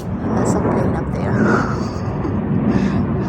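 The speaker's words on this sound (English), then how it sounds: "And there's a plane up there." A Southwest Airlines jet passes overhead above a backyard garden, a steady broad low rumble that swells gently and holds throughout, distant but continuous, with no talking.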